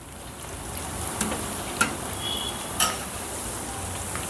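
Soft pakoda batter with chopped onion, green chilli and mint frying in hot oil, a steady close sizzle and crackle with a few sharper pops, no talking.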